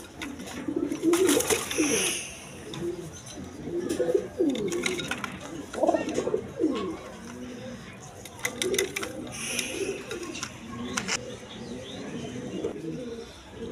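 Red Rajgolla pigeons coo close by in repeated soft, throaty phrases, several birds overlapping in irregular bursts with brief rustles between.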